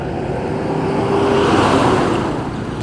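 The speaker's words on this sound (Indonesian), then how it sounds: "Truk bensin teman-teman." A fuel tanker truck passes on a congested road near a railway crossing, a loud, steady rumbling roar that swells to a peak midway and then holds, with a faint engine tone and no talking.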